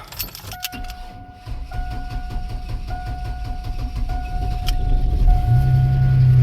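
Keys jangle, then an old budget truck's engine cranks on a freezing cold day and catches, settling into a low rumbling idle that grows steadier and louder toward the end.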